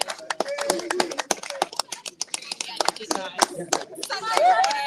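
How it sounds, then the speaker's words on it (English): Spectators clap in sharp, uneven bursts at the Devizes to Westminster canoe race finish, scattered hand claps close by that thicken toward the end, with a voice talking among them. "Big cheering crowd here for Frankie and Louie."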